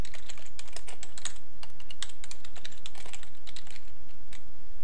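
Rapid, steady keystrokes on a computer keyboard as a report name is typed, close and crisp clicks with no talk.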